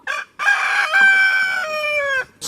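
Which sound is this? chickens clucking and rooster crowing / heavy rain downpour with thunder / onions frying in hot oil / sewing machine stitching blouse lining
chickens clucking and rooster crowing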